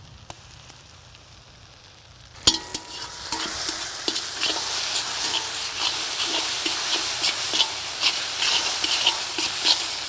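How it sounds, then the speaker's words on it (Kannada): Ginger garlic paste, green chilli and onion fry in a pan for a mushroom sukka, a quiet start giving way to a steady sizzle with frequent stirring clicks and scrapes close by. "ಈಗ ಶುಂಠಿ ಬೆಳ್ಳುಳ್ಳಿ ಪೇಸ್ಟು, ಹಸಿಮೆಣಸು, ಈರುಳ್ಳಿ ಎಲ್ಲವೂ ಫ್ರೈ ಆಗಿದೆ"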